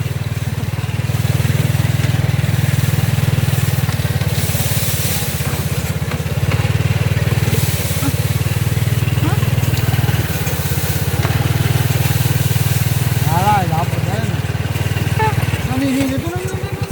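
A motorcycle engine runs in a steady, loud, close drone while riding out through farm fields, with people talking over it and the engine note dropping near the end.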